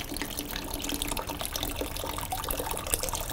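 Coolant drains from a Honda CBR1000RR radiator during a flush, a quiet continuous trickle and splash of liquid throughout, with no voices.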